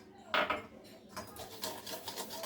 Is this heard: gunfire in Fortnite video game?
no